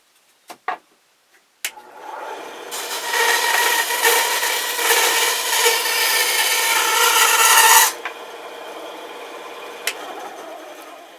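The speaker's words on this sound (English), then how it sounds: "We just need to sand this down a little bit" Sandpaper rasping steadily against a carved wooden ventriloquist dummy head, a continuous close scratchy friction lasting several seconds after a few light knocks, then stopping abruptly.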